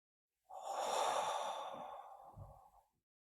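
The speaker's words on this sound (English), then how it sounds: "Deep breath." One deep breath, a long audible inhale-exhale lasting about two and a half seconds, close and breathy, alone with no talk.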